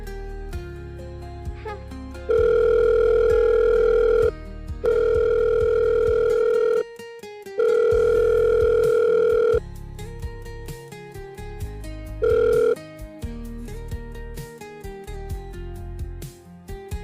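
A telephone ringback tone sounds while a call is placed, long steady beeps repeating in a regular on-off pattern, loud and clear over soft background music.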